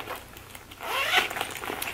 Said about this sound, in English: that zips open and close,